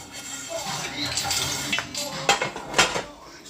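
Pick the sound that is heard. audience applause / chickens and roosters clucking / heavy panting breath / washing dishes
washing dishes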